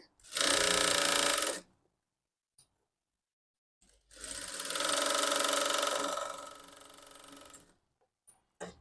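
A sewing machine runs in two bursts while joining the shoulder seam of a blouse, a steady whirring run of about a second and a half, a pause, then a longer stitching pass of roughly three seconds, close and fairly loud.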